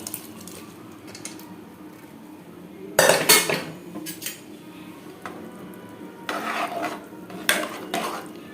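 Cooked chana dal is tipped into simmering sago in a pot and stirred for a festive payasam, bringing loud metallic spoon scrapes and clanks against the pot in bursts after a quiet start.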